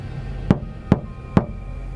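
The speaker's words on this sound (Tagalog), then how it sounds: "Narinig niyang katok sa labas, mahina ngunit malinaw." Three sharp, evenly spaced knocks sound outside a house at night, each a single distinct rap against a quiet background.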